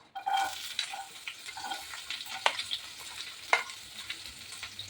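Chopped onion and cumin seeds hitting hot oil for a prawn chop, a loud steady sizzle with sharp crackles and pops, and occasional stirring scrapes in the pan.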